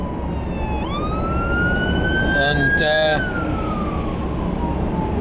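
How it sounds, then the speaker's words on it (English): A fire engine siren wails past on a road, heard from inside a moving vehicle, rising and falling in pitch as it goes by over steady road rumble, with a voice briefly speaking. "I just hope that fire engine that went past ain't going to bring me bad luck"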